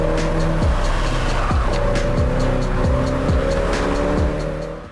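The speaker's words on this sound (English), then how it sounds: "an open-world drifting game" Game car drifting in JDM Japanese Drift Master, a loud engine holding high revs with repeated gear shifts and sharp tire squeals over about five seconds, no talk.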